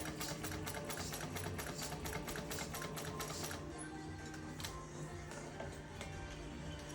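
A Juki 154 industrial sewing machine stitches through leather with a rapid, even mechanical clatter, running steadily and close up, the rhythm easing slightly toward the end.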